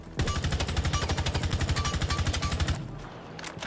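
An LMG machine gun fires in Rainbow Six Siege, a fast, even stream of loud, closely spaced shots for about two and a half seconds before stopping, followed by a brief quieter tail.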